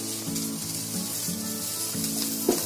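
Potato pieces go into a pan of onions frying in very little oil, giving a soft, even sizzle with faint stir strokes and one small clink near the end, no voices.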